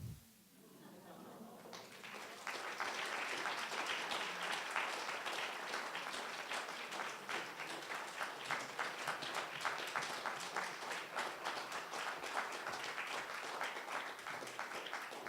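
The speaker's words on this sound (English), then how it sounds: "Another round of applause for all of our readers, please." Audience at a poetry festival main stage in Tacoma breaks into sustained, dense applause after a short pause, steady and fairly distant, with some cheering mixed in.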